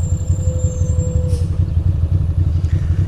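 A big truck rumbles past on a Brooklyn street, a heavy low engine drone holding steady and close throughout with a brief higher whine mid-pass.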